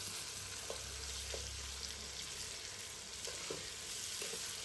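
Onions sizzle steadily in a hot pan while being stirred for a beef and raw jackfruit curry, with a constant frying hiss and a few soft scrapes from the stirring.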